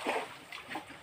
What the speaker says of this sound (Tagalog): Running water guys, walang problema, walang dumi.